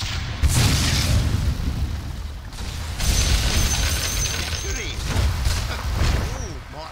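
Sniper's Shrapnel ability going off in a Dota 2 match, heard as repeated booming blasts and bursts in an ongoing game mix, loud and dense over roughly seven seconds, with a character voice calling out over it.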